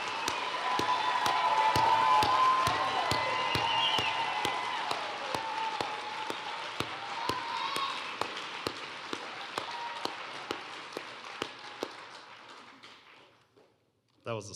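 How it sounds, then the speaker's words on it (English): Applause from a graduation ceremony audience at Ferguson High School, steady and fairly loud for about twelve seconds with sharp claps and taps standing out, then fading away near the end, with voices mixed in. "Please help me give our graduates a round of applause for their commitment to education, to themselves, and their futures."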